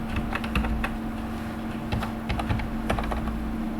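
Rapid typing on a computer keyboard while making a journal voucher entry in Tally accounting software, with steady clicking keystrokes close up, a constant low hum underneath and no talking.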